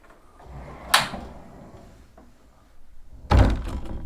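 Two sliding pocket doors in a Princess X80 yacht bathroom pulled closed, one each side, each ending in a sharp thunk, the second louder and heavier, with faint rolling movement between them.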